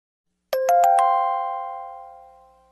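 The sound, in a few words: bell tolling a knell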